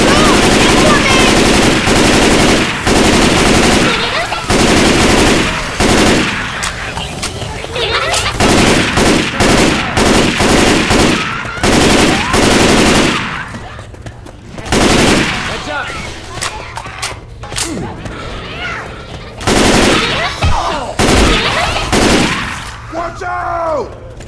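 Loud, dense gunfire from Left 4 Dead 2, long automatic bursts and rapid shots nearly continuous across the clip, with short gaps and occasional voices underneath.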